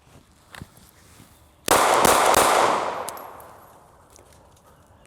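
Gunfire at live fire training, a sharp loud burst of two or three shots in quick succession ringing out and decaying over a couple of seconds, preceded by faint clicks and quiet handling.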